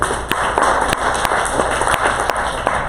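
An audience clapping for a student at a university performance, with irregular sharp claps of moderate loudness spread over a few seconds.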